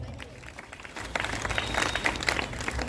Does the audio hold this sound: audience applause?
yes